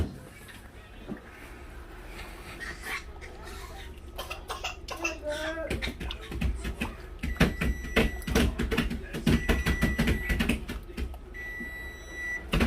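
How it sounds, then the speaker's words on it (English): An oven timer beeps in a home kitchen during burrito cooking, a series of short high repeated beeps in the later part, amid clattering kitchen noises and background voices. "That's the timer on the oven, letting us know it was done."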